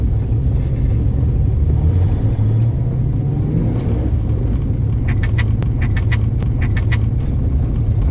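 A 1970 Ford Mustang engine runs steadily during a drive, a loud low rumble throughout, with faint high chirping or squeaks appearing intermittently in the second half.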